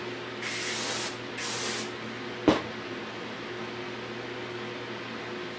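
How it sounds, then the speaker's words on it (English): Two short hissing bursts of hairspray come from an aerosol can aimed at styled wavy hair, close and clear over a steady low hum, followed by a single sharp knock. "And then I'm just going to hairspray it."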